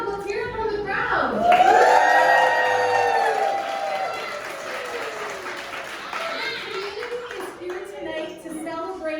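A crowd at a public library ribbon cutting ceremony in Ellsworth, Wisconsin cheers and applauds loudly, with rising whoops and shouts over continuous clapping that slowly settles.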